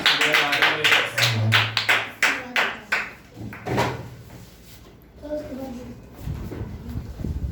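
Clapping for a participant at a storytelling competition comes as a burst of sharp, fairly close hand claps from a small group, thinning out after a few seconds as voices and room noise take over.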